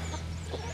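Brahma chickens, a big breed, cluck softly inside a wheeled chicken tractor on uneven ground. The clucking is low and brief against a steady hum.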